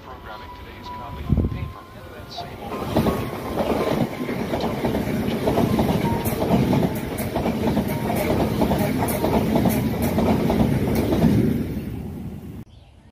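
A train runs past near the Tolo Harbour cycle track in Hong Kong, a sustained rumble with rhythmic clickety-clack of wheels that builds, holds loud for several seconds, then fades away.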